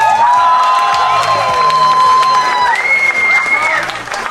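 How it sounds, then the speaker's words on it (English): Wedding reception guests break into loud applause mixed with cheers, whoops and high shouted voices, close and energetic, fading slightly at the end. "We need to give Carly a big round of applause"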